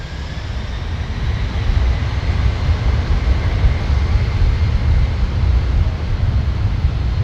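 Jet engines roar on takeoff at London Heathrow, a heavy low rumble that swells after the first second and holds steady and loud, with no voices.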